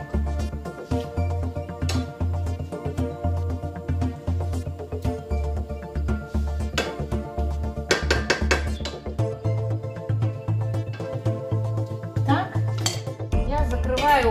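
Metal lid set onto an iCook cooking pot, with clinks and clatter of cookware and utensils in a kitchen over a low steady hum, some faint talk in the background.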